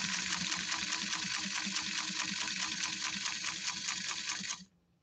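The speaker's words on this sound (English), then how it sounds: "we're sewing canvas, two layers of it, with a leather needle and with the dual duty Coates and Clark thread" A 1954 Singer 99K sewing machine running steadily through two layers of canvas with a leather needle and heavy-duty thread, a loud continuous rapid stitching rhythm that stops abruptly near the end.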